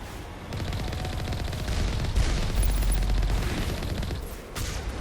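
A Mako vehicle cannon in the video game Mass Effect firing repeatedly, dense booming bursts over a continuous rumbling engine drone, close and loud.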